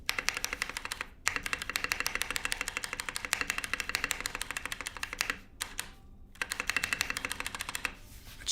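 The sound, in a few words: typing on Foraz Signature Hope mechanical keyboard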